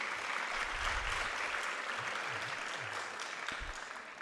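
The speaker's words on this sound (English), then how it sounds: "Can we give them a round of applause?" Audience applause at a live-streamed university gathering, a broad wash of clapping heard from some distance, with low murmurs and faint sounds underneath.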